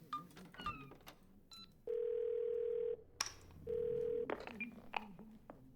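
Ringback tone of a phone call to the police in the video game Twelve Minutes: two long, steady buzzing rings with a pause between them, with softer game sounds and brief voices around them.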